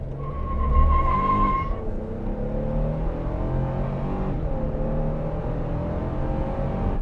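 Toyota Tundra SR5 pickup truck accelerating hard from 0 to 60 mph, a loud steady engine roar that climbs in pitch, with a brief tire squeal near the start. No speech.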